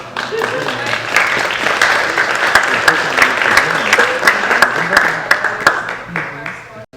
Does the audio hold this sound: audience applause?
yes